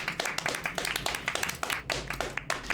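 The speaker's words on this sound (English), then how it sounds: "Why are we clapping?" A small group of people claps briefly in a quick, uneven patter of sharp hand claps, fairly close and without talk.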